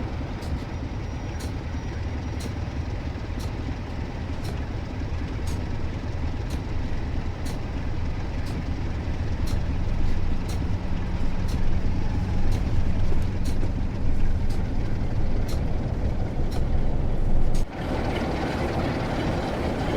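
A Class 47 diesel locomotive, number 47635, hauling a British Nuclear Trains cargo line, runs with a steady low engine drone that swells slightly midway, with faint regular ticks above it and no voices.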